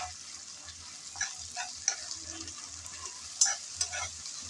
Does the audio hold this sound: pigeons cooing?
no